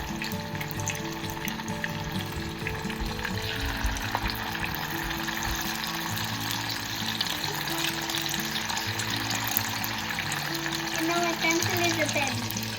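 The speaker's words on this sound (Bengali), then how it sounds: "এক এক করে চিকেনগুলো ভাজতে দিয়ে দেবো এবার।" Chicken pieces coated in a spice paste and cornflour fry in a pan with a constant hissing sizzle, while voices talk over it in the background.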